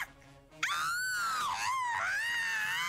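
A person lets out one long, loud, sustained scream that rises and falls in pitch for over two seconds. It bursts out abruptly after a quiet moment, close and unbroken.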